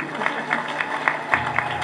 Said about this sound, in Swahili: Nipigeni makofi basi.